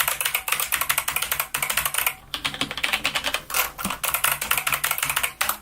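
Fast, continuous typing on a Corsair STRAFE mechanical keyboard with Cherry MX Red switches, close-up clacking keystrokes in dense rapid bursts with a few short pauses, no talking.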